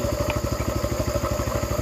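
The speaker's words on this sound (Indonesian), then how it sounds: "pemanasan mesin terlebih dahulu agar mesin-mesin teman-teman ini awet" A small crop sprayer engine warms up before spraying, idling close by with a fast, even putter and clattery beat, steady and loud throughout.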